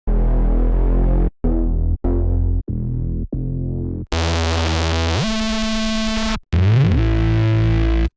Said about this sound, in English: I will use reese bass 1, it has a nice soft vibe.